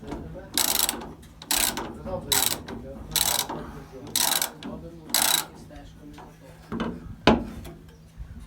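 Wrench work tightening nuts on the straw walkers of a John Deere 1075 Hydro/4 combine during repair, heard as six evenly spaced bursts of metallic ratcheting, about one per second, followed by a couple of duller knocks and clanks close by.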